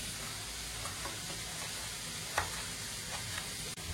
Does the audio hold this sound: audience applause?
no